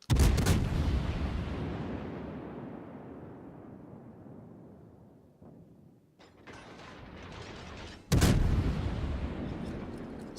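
Heavy ship guns firing in the naval game World of Warships, a loud booming salvo opening, a long rumbling decay, smaller mechanical clanks, then another big blast.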